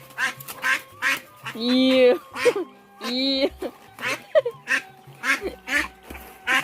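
Ducks quack loudly and repeatedly beside a fish pond being drained, with harmonic nasal calls in short bursts, interspersed with people talking close by.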